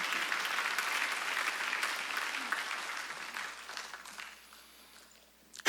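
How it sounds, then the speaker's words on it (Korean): A congregation applauds during a Sunday church service, a broad crowd of clapping that fades out toward the end before a sudden loud sound cuts in. "율법 아래 있지 않다는 깨달은 사람만 박수."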